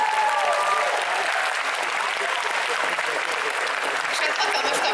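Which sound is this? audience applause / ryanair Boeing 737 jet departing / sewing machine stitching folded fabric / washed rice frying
audience applause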